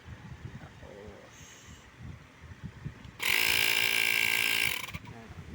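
A Xiaomi Air Pump 2, repaired after a 264 error, runs on test with a loud, harsh mechanical buzz lasting about a second and a half, rising abruptly over quieter handling noise and stopping sharply.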